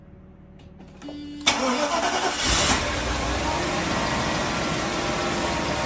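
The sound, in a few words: 1986 Mercedes-Benz 420SEL cold engine start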